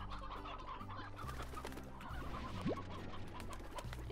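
Chickens clucking in the video game Slime Rancher, a steady busy chorus of clucks over a constant game backdrop, with one short rising squawk near the end; no voices.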